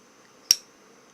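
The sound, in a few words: Zippo lighter lid clicking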